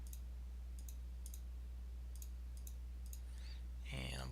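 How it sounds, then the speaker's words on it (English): A computer mouse clicks several times while drafting map sheets, small sharp clicks spaced unevenly over a steady low hum, ending with a brief louder swell. "I'm just holding my control button down every time I click."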